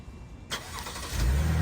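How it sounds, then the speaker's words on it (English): A Buick Enclave SUV engine starts by remote start: a sudden burst of cranking noise, then a low, steady engine rumble that grows louder and settles into idle, with no talking. "that's the remote start."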